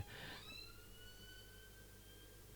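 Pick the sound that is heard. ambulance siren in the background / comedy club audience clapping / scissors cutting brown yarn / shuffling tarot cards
ambulance siren in the background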